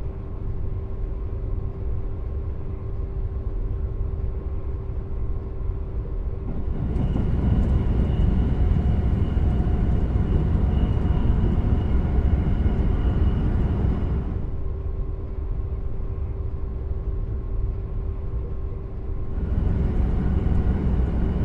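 Train engine and rail noise in Train Simulator 2022 with the RW Enhancer 2 sound mod on the Eindhoven–Utrecht line, a steady loud rumble that swells fuller for stretches and then drops back, with no talking.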